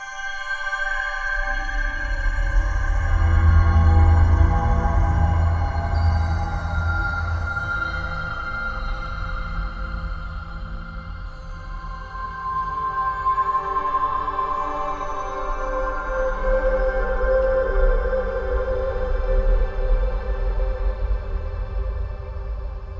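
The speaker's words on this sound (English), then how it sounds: "as one sound with these 3 synths, we might have a really cool piece come together" Layered magic sound effect from three synthesizers, a sustained shimmering drone with deep rumbling lows and ringing, shifting tones that swell and fade over a long stretch.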